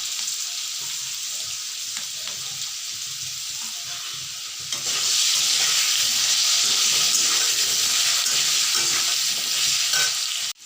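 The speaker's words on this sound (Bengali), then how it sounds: "লাল লাল করে ভাজা হয়ে গেছে" Chhana bora, fried cheese-curd balls, sizzle steadily in hot oil with a dense, even crackle that grows noticeably louder and fuller partway through, with no voices.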